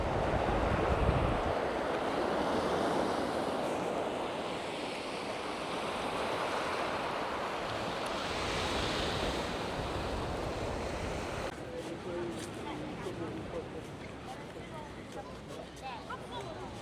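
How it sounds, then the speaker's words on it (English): Sea waves with strong backwash at Altea on the Spanish coast, a steady broadband wash of surf and wind that thins out near the end, with a voice talking over it. "There's a lot of backwash in the water."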